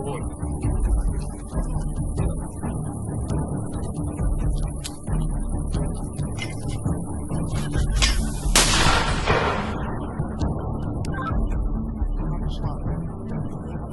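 Heavy booms of mortar fire sound amid outdoor noise and people talking, with one sharp blast standing out partway through, near Kupiansk.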